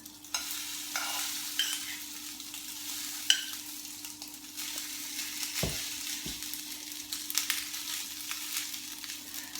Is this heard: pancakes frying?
yes